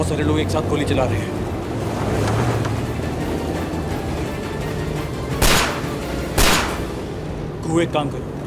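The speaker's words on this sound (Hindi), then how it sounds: "लगता है बहुत सारे लोग एक साथ गोली चला रहे हैं" Several loud, sharp gunshot cracks ring out amid a rumbling vehicle in a car-chase scene of a Hindi TV drama, with bursts spaced a second or so apart and people talking throughout.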